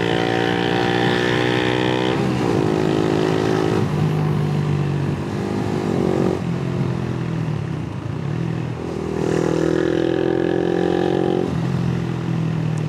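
A Honda Winner X motorcycle with a remapped stock ECU idles and is revved repeatedly up close, its engine note rising and falling in several loud, drawn-out pulls without any talk.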